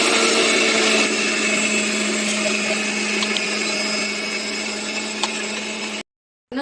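A mixer grinder runs steadily, whirring loud and continuous as it grinds garlic, mustard, onion and coriander into a paste, then cuts off abruptly into silence just before a brief restart.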